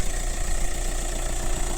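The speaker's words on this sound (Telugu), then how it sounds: "ఇంజన్ సౌండ్ కూడా స్మూత్ ఉంది" A 2019 Hyundai Creta SX (O) 1.6 diesel engine idles steadily, a low even rumble close by throughout, with no voices and no change in pitch.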